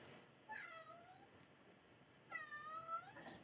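A cat meows twice, faint and fairly near, the drawn-out cries separated by a short pause of quiet room noise.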